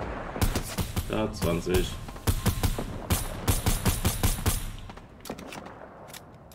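Rapid gunfire from a shooter video game, dense bursts of sharp automatic shots that taper into a few scattered single cracks, with someone talking briefly over them.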